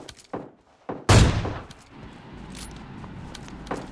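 AWM sniper rifle in a mobile shooting game: one loud, sharp, close shot with a long decaying echo, preceded by a few faint clicks and followed by quieter rustling and distant ambience.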